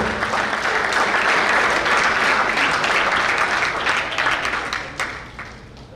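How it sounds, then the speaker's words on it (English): Banquet audience at a cricket conference awards night breaks into a big round of applause for the wicket keepers, dense, loud clapping sustained throughout before tapering slightly at the end. "A big round of applause for Pritam Nanga and all the wicket keepers of cricket."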